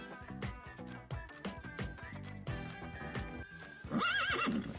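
Horse neighing sound effect: a loud, shrill whinny rises near the end, following rhythmic clip-clop hoofbeats and music-like tones, with no talk.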